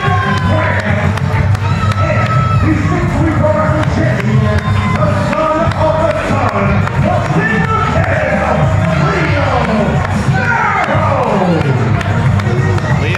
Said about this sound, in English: applaud for these guys, Will